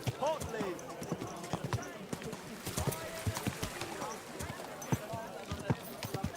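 Irregular clopping of a horse's hooves, close and fairly loud, mixed with people talking and shouting and a brief whinny-like cry near the start.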